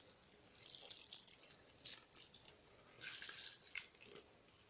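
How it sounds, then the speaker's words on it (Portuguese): Water poured into bread dough in a mixing bowl, with faint trickling and splashing that swells in two soft bursts, quiet and close, with no talking. "vou colocar o restante da água"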